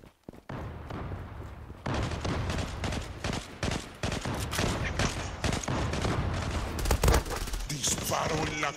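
Rapid bursts of automatic gunfire in the video game Zula crackle and boom in quick volleys, with a voice talking intermittently underneath the shooting.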